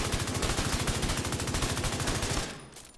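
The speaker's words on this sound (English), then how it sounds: "So, the main weapon we're going to use is obviously the Bighorn." Bighorn rifle from The Division 2 firing in a fast, steady burst of loud gunshots for over two seconds, then cutting off into quiet tail.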